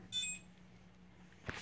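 A brief high-pitched electronic beep sounds once near the start as a PetSafe automatic ball launcher dog toy powers on, faint in a quiet space, followed by a soft thump.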